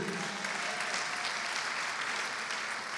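A church congregation applauds for its young people, steady full-room clapping that holds at an even level from start to end with faint crowd murmur underneath.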